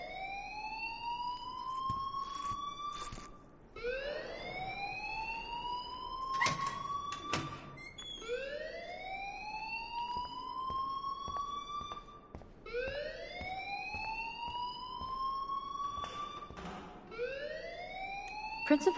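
A fire alarm in the video game Life Is Strange wails continuously with repeated rising sweeps, loud and steady throughout, with brief clicks and knocks mixed in.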